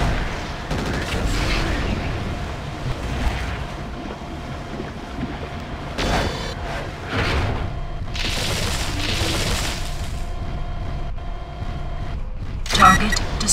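Explosions from destroyed targets rumble through combat in the MechWarrior 4: Vengeance mech game, several muffled booms and bursts over a constant low engine drone, with radio-style voices talking over parts of it.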